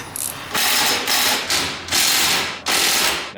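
An impact wrench hammers at bolts on makeshift strut tops of a Mitsubishi Evo IX, firing in about five short, loud, rattling bursts separated by brief pauses.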